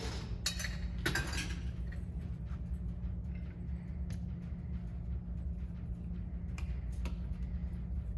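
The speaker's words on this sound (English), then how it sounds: "We're going to fill the glass with ice." Ice cubes clink and rattle into a tall glass while a cocktail or mocktail is being made, with a few sharp close clinks standing out early over a steady low background hum.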